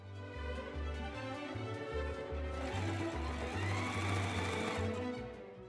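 A sewing machine stitches grosgrain binding over the assembly seams of a travel bag, a close rhythmic mechanical chatter running in short continuous bursts with a steady whirring motor underneath, no talking.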